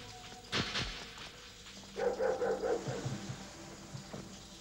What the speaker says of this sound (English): What's the barking about?